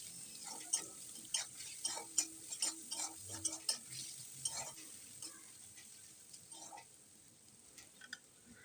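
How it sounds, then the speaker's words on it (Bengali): Onion frying in a pan with whole cumin and crushed garlic for aloo dum, heard as a faint sizzle under a series of sharp spoon taps and stirring clicks that thin out toward the end. "পেঁয়াজটা একটু ভেজে নিয়ে তার মধ্যে এবার আমরা দিয়ে দেব গোটা জিরে, তারপরে দেব থেতো করে রাখা রসুনটা"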